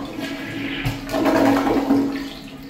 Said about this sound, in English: Let's have a look at a flush. Let's first do a press and release.